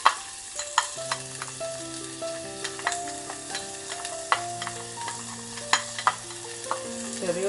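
Small shallots sauté in a spoonful of coconut oil in a pan, a soft steady sizzle with scattered spoon clicks and stirring scrapes, while a sustained background tone carries throughout.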